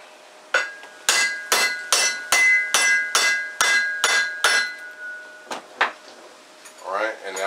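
A hammer strikes a U-joint on a 1989 Chevy K5 Blazer about a dozen times, loud ringing metallic blows at a steady pace, then a few slower hits and a short burst of speech at the end.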